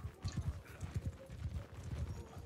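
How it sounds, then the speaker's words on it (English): Horse hooves clip-clop in a steady, quick rhythm during a multiplayer siege battle in Mount and Blade II: Bannerlord, faint and continuous with no talk over it. "hop on the horse"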